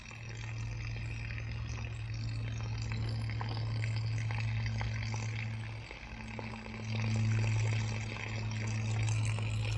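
Water running and draining from a caravan's plumbing as it is emptied for autumn and winter, a steady close gurgling flow with a low hum that swells and dips over about ten seconds.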